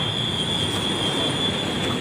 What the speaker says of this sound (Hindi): ये स्टेशन हैं, देख लें, ये अली टाउन वाली साइड से आ रही है